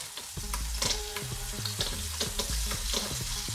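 Butter and olive oil sizzle hot in a wok, a steady close frying hiss with light scraping and stirring ticks throughout, no talk.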